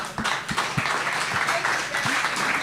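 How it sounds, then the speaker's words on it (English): Applause from an event audience at a chef competition, a steady wash of clapping that runs the whole time under scattered voices. "And a round of applause for that."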